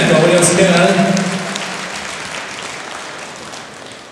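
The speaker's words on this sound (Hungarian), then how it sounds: "Tapsoljuk meg a legényeket" Applause rings out from an audience at a demonstration bout at a gala in Debrecen, loud at first, then fading away over a few seconds beneath a voice.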